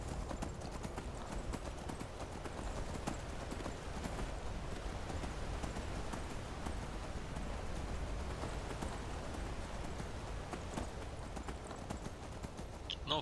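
Steady clip-clop of horse hooves trotting over ground in the video game Skyrim, continuous and even, with a rain-like hiss in the background and no talking.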